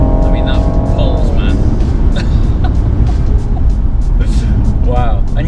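A 2017 Rolls-Royce engine accelerates under heavy torque, a deep steady low rumble heard from inside the car while people talk over it.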